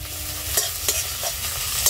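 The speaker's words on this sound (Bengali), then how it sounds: "সব এবার একসাথে ভালো করে ভেজে নেব।" Chopped onion, chilli and grated ginger fry together in mustard oil while a spoon stirs them, giving a steady soft sizzle with a few sharp scraping strokes against the pan.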